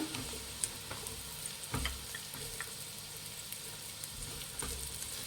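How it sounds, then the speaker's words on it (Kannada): Onions are dropped into hot oil for egg fried rice and fry with a steady sizzle, broken by a few soft stirring knocks and scrapes at moderate volume. "ಈಗ ಈರುಳ್ಳಿ ಹಾಕ್ಕೊಳ್ಳೋಣ"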